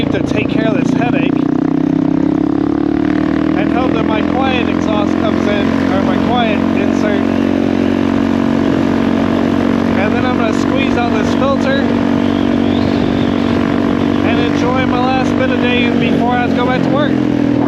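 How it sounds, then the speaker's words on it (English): A Honda CRF450RL dual-sport motorcycle drones steadily with a loud exhaust while riding, holding a fairly even engine note throughout with a rider talking over it intermittently. "after this obnoxiously loud exhaust"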